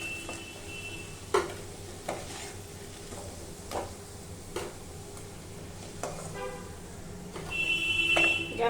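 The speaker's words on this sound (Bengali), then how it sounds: "লাল লাল ভাজা হয়ে গেছে, আমি উঠিয়ে নেব" Crumbed vegetable chops fry in hot oil on medium heat, a soft steady sizzle broken by several sharp clinks of a utensil stirring and turning them, ending in a louder burst of bubbling.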